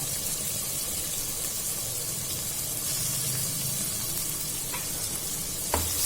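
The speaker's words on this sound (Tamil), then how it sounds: "இப்ப நம்ம நறுக்கி வச்ச வெங்காயத்தை போட்டுக்கலாம்." Finely chopped onions sizzle and crackle steadily in hot ghee, with a constant frying hiss and a couple of faint clinks near the end.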